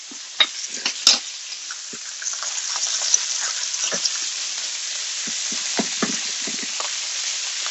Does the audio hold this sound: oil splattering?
yes